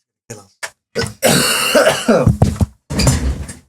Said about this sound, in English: Oh, he's still coughing, honestly.